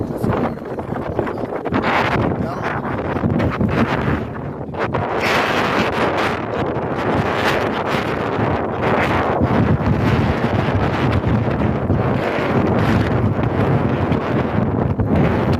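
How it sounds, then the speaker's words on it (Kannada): Strong sea wind at Vivekananda Rock roars loudly and continuously into the microphone, surging in gusts throughout. "ಸಮುದ್ರದಿಂದ ಅಲೆಗಳಿಗೆ ಬರ್ತಾ ಇರೋಂಥ ಗಾಳಿ ಇದು"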